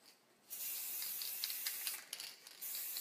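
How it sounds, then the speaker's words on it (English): Wax spray hisses onto painted chalk-paint wooden bunting in steady bursts, a close, bright airy spray with brief pauses and small rattles between them. "a wax spray."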